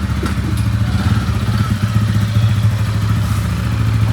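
A motorcycle engine runs steadily and close by on a ride from Mysuru to Channarayapatna, with a deep continuous throb and some light clatter throughout.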